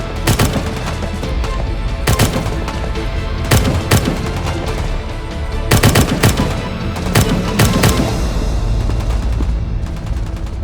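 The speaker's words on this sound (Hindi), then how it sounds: "फायर करते रहो।" Gunfire sound effects in an Urdu-dubbed action drama: loud bursts of automatic fire, heavy rattling volleys with booming impacts, come in waves throughout with no speech over them.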